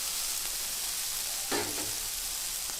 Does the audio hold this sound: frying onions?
yes